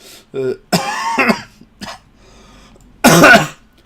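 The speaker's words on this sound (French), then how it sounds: "je tousse encore" Several loud, harsh coughs close by, a few short bursts followed by a stronger fit at the end, with quiet gaps between.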